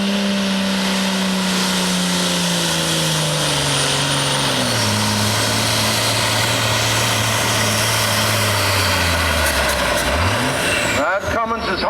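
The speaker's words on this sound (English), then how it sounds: "That Cummins is hot now." A Cummins diesel engine in a pulling truck at a truck and tractor pull runs loud and close, its drone stepping down in pitch over several seconds before slowing and fading at the end.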